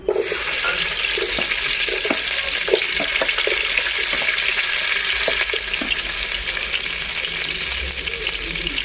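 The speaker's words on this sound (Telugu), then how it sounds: "ఇప్పుడు కొంచెం నెయ్యి కూడా యాడ్ చేసుకున్నాం టేస్ట్ కోసం ఇప్పుడు ఆనియన్స్ వేసుకుందాం" Onions hit hot ghee in a pan for a village-style chicken dum biryani, producing a loud, close, continuous sizzle and crackle that holds steady throughout, with no voices.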